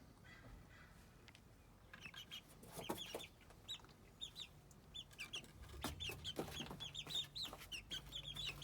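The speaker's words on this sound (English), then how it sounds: "I want to get the chicken." Chickens clucking softly in a coop, a run of short repeated clucks and murmurs that grows busier and closer toward the end over quiet background.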